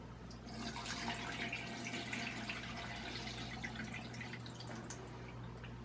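Liquid poured off from settled cochineal lake pigment gives a continuous trickling, dripping splash, close and steady, with no talk.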